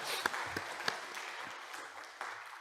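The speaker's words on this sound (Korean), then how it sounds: "박수로 한번 환영하시겠습니다" A church congregation claps to welcome visitors during a Sunday service, a fairly faint, brief spell of scattered clapping with a few distinct sharper claps.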